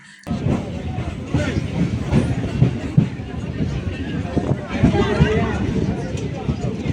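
Moving passenger train at night nearing Kalyani: a steady, loud rumble and rattle of the carriage with irregular clacks, under a busy background of many voices talking.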